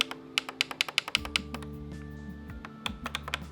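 Media keys on a Logitech G613 wireless gaming keyboard click crisply, a run of sharp, evenly spaced taps close up with a steady low hum underneath.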